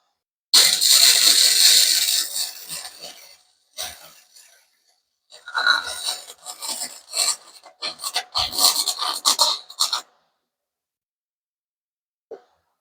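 Flux-core wire welding on thin 16-gauge aluminized steel exhaust pipe, harsh crackling sputter in several bursts, loud and close, with short pauses and silences between runs.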